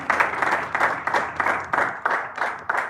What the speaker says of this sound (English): Give all yourselves, all participants, a round of applause. Huge round of applause.